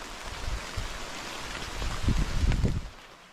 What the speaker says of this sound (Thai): ฝนก็ตกต่อเนื่องนะครับ เป็นอุปสรรคในการทำที่พักของเรามากครับ